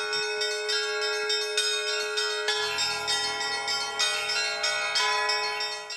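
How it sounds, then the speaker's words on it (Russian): Bells of an Orthodox church in Penza peal for a patronal feast day, with a sustained ringing drone and many overlapping clangs. Deeper bells join partway through, rich and resonant, with no voices. "О том, что в этом храме особый день, возвещает колокольный звон."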